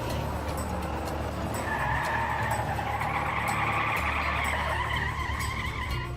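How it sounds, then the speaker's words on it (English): Two Mack drag racing trucks do burnouts, smoking their tires before a race, giving a sustained screeching tire squeal and rising engine whine over a rumbling low drone. "both trucks smoke their tires"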